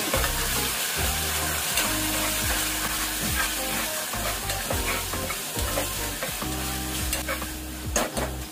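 Ground masala paste for chicken sukka sizzles in a hot pan while a spoon stirs and scrapes it around, steady frying hiss with repeated scraping strokes throughout.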